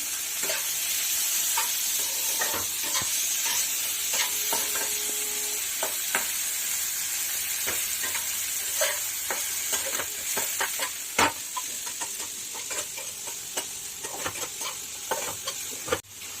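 Onions sizzle in a hot pan of fish curry masala while a spoon stirs and scrapes steadily, the frying hiss continuous and close throughout with no speech.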